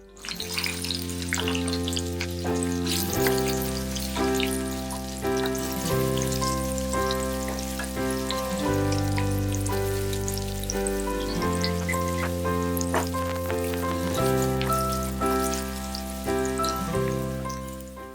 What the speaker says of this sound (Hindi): तेल में प्याज डाल देंगे।